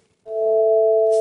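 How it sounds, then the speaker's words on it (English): Two pure sine tones, A at 440 Hz and the note a perfect fifth above at 3/2 that frequency, enter together and hold steady and clear for about a second, with no voices. "This is called what we call a perfect fifth."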